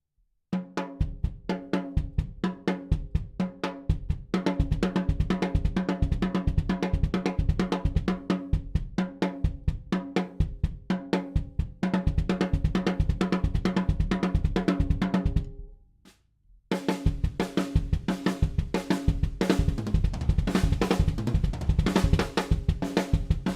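Fast, steady double-kick bass drum strokes pound in rapid succession with cymbals and drums over them, briefly cutting out near the end before resuming.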